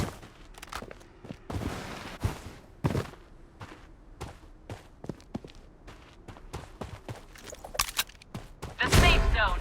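Rapid bursts and single shots of gunfire in the video game Blood Strike, close and loud, mixed with footsteps and brief in-game voice callouts, ending in a heavy close burst.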